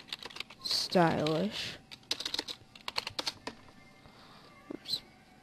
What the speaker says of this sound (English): type in black Google